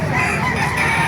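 Rooster crowing at a chicken market in Baliuag, Bulacan, a short, loud, close crow with clucking fowl and market bustle behind it.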